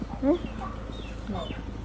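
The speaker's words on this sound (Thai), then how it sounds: "ไก่ก็มา" Chickens cluck at a rural Thai outdoor cooking spot, with a couple of short, moderately close clucking calls over steady background noise.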